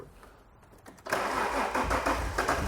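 An Alfa Romeo 147 GTA engine, just rebuilt, cranks briefly and then catches, jumping to a loud, steady running roar with a few pulsing surges, close by.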